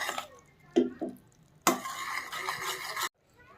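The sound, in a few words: stirring jaggery syrup in a pan for sesame chikki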